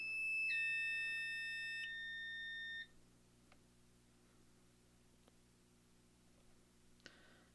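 Fire alarm devices sounding during a system test: a loud steady electronic beeping tone for about three seconds that then cuts off, leaving faint room noise with a few soft clicks and a brief chirp near the end.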